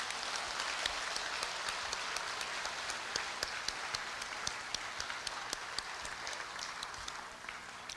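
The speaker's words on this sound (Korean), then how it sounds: "두 분 부모님께 따뜻한 박수 한 번만 더 보내드릴까요?" Audience applause at a university anniversary ceremony, a sustained patter of many hands clapping, fairly faint and distant, tapering slightly at the end.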